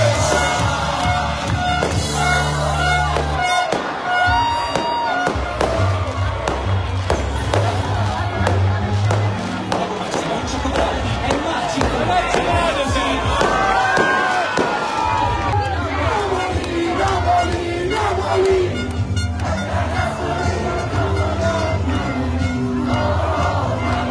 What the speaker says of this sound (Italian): Tra cori, musica e bandiera al vento, la gioia per il successo in campionato della squadra azzurra non accenna a diminuire.